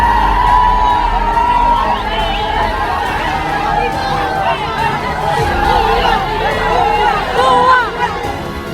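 A dense crowd of protesters shouting, whooping and cheering, with many overlapping excited voices and chatter held at a steady high level throughout, close and loud.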